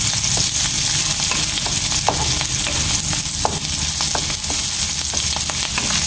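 Garlic and chili sautéing in a pan, a steady close sizzle and crackle of hot oil with occasional scrapes and clicks of a utensil stirring, no voices.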